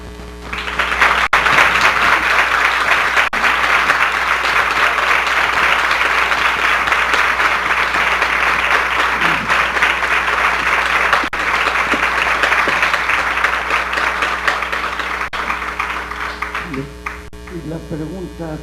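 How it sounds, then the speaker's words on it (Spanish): Loud, sustained audience applause for the organizers at a conference inauguration in northern Mexico, a long dense wall of clapping over a steady electrical hum, fading slightly near the end as voices return. "que les dieran un aplauso a los organizadores de este encuentro maravilloso"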